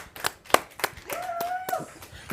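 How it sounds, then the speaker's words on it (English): A few people clap for a guest vocalist on a TV show, with sparse, separate hand claps, some louder than others, and a brief tonal voice-like sound in the middle. "let's give another round of applause here"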